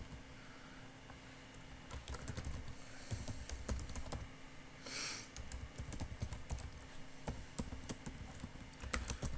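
Java code typed on a computer keyboard, a steady run of quick close key clicks with brief pauses and a few louder taps, with no talking over it.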